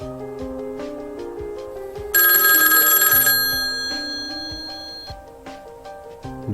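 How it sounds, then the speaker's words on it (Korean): A telephone bell rings indoors in one loud burst of about a second, standing out over soft, steady background music and then fading away. "다시 전화가 또 울리더군요."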